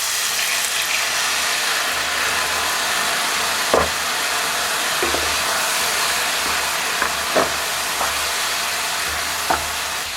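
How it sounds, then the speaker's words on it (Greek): Tas kebab meat in a hot pan, deglazed with tsipouro: a loud, steady sizzle and hiss throughout, with occasional scraping stirs and clinks from the pan. "σβήνω με ένα σφινάκι τσίπουρο"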